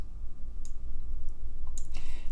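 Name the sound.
computer mouse clicking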